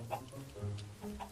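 Chickens in the Minecraft video game give a few faint, short clucks in quick succession, quiet and brief.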